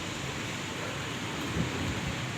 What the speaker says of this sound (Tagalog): hangin, ulan.